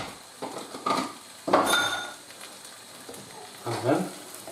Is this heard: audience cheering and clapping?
no